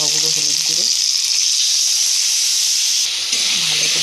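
Potatoes with tomato, cumin paste, ginger paste, chili powder and turmeric frying in a pan, a loud steady sizzle throughout, with a brief voice near the start and end.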